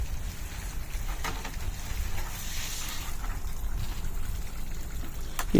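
Irrigation water runs into a planting bed on a farm field. It makes a steady, low rushing trickle that continues without a break throughout.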